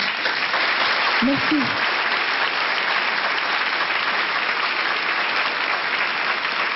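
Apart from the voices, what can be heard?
audience applauding a young singer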